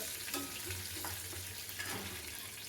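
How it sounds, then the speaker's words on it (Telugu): Cumin, mustard seeds and curry leaves fry in oil with black gram and chana dal, a soft continuous crackle and hiss with faint occasional stirring knocks, fairly quiet. "జీలకర్ర ఆవాలు కరివేపాకు వేసుకొని మంచిగా ఫ్రై చేసుకోవాలి"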